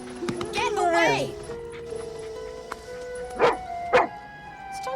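A dog barks twice in sharp bursts after an opening stretch of agitated, overlapping voices and yelping sounds, with a faint background hum.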